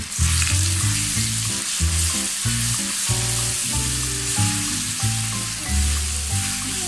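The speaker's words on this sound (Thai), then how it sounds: "เราจะผัดกระเทียมนะคะ" Garlic and pounded red chili stir-fry loudly in a hot pan, a dense close sizzle broken by rhythmic scraping and clattering of the spatula, with no voices.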